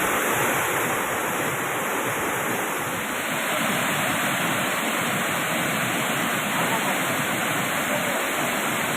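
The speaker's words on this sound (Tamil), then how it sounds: "ஒகேனக்கல் அருவியில் தண்ணீர் ஆர்ப்பரித்து கொட்டுகிறது" The Hogenakkal waterfall on the Cauvery river roars with heavy water, a dense, steady, loud rush that stays constant throughout with no pauses.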